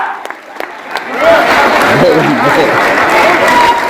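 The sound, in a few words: audience applause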